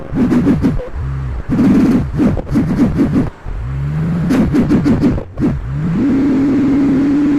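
A Mercedes M103 engine idling and being revved, with repeated blips and dips in pitch, short pauses, and a final settle into a steady running hum, loud and close with no talk.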